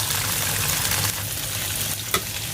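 Tofu fries in a pan with a loud, close, continuous sizzle and crackle, a brief scrape near the end.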